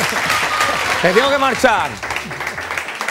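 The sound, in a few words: audience applause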